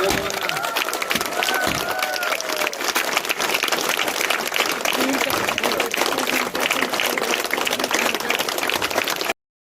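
An audience at a school logo inauguration claps steadily and densely for several seconds, a sustained wash of applause from a crowd, with a few faint voices early on, ending abruptly.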